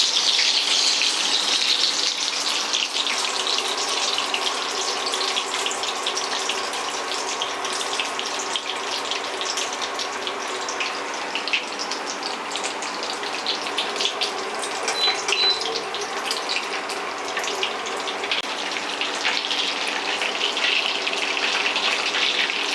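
Chicken leg pieces fry in hot oil with a constant rushing hiss and a fine crackle that holds at an even level from start to finish.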